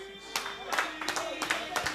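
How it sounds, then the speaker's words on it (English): Attendees at a golf club annual general meeting clap, a scattered, moderately quiet round of claps in uneven bursts over a faint background hum. "A round of applause for him, please."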